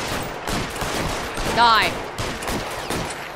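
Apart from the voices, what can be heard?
gunfire in the video game L.A. Noire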